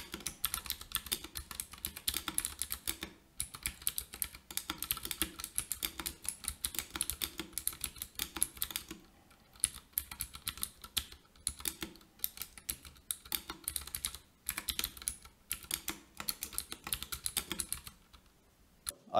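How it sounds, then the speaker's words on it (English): Fast, continuous typing on a custom mechanical keyboard with standard keycaps, close and crisp, with dense irregular clacks and brief pauses, no talking. "I'm just gonna do a little bit of typing so you can hear what it sounds like"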